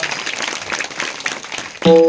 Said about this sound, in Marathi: जोरदार टाळी वाजवून त्यांचं स्वागत करा